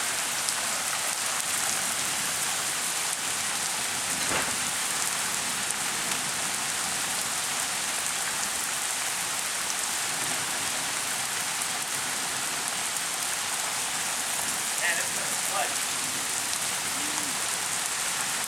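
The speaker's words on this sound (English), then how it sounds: "We'll have to keep track of how long it rains for" Steady, dense rain from a rain storm pours down on surfaces nearby, a constant even hiss throughout with no voices.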